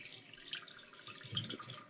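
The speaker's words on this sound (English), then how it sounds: "Well, we got water coming in." Water flows into a toilet tank refilling after a 25-year-old supply valve is opened with pliers; a steady, faint hiss of running water continues throughout with no voices.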